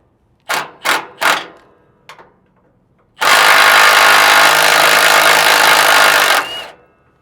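A power tool loosens 19 mm bolts on a Freightliner truck. Three short bursts come first, then one long, loud continuous whir that lasts about three seconds and stops, all close up with no talking.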